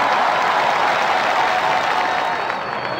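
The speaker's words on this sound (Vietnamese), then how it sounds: "Xin mời quý vị dành một tràng pháo tay cổ vũ tinh thần cho hai thí sinh của chúng ta." Studio audience applause on a Vietnamese New Year television game show, a steady wash of clapping from a seated crowd that holds for a few seconds and eases slightly near the end.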